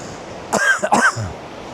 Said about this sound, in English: Here's me coughing, whilst talking about the price of cigarettes.